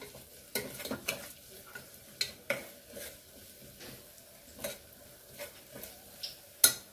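Goda masala is fried and stirred in a hot pan, with repeated clicks and scrapes of a spoon against the pan over a soft, steady sizzle, close by and with no voices.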